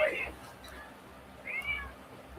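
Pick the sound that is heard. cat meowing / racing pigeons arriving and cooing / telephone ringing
cat meowing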